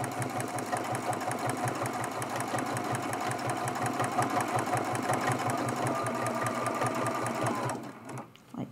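Sewing machine free-motion quilting a turkey mug rug, a fast steady mechanical needle chatter running continuously before stopping abruptly near the end, followed by a faint click.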